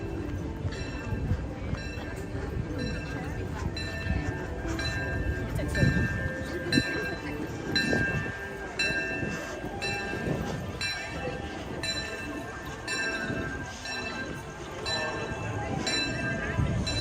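A train at Disneyland rumbles and clatters along the tracks nearby, a steady continuous roar with rhythmic wheel knocks and some voices faintly underneath.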